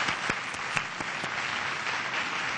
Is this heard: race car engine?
no